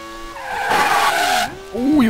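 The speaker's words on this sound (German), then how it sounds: "Harter Verbremser." Race car tires skidding and squealing under hard braking during a Moroccan Grand Prix in a racing video game, a rising then falling screech with engine whine, loud and close, lasting over a second before the engine revs back.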